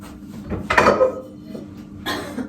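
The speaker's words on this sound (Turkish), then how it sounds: "Bulaşıkları bir kere toparladım ve çıkanlar" Dishes clink and clatter as they are gathered in a kitchen, a sharp cluster of knocks followed by a second softer rattle, close by.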